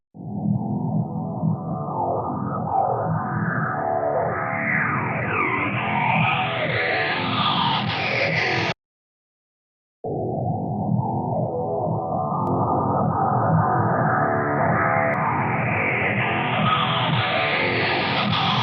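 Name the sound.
phaser-type effect using Frequency Echo free plugin on metal intro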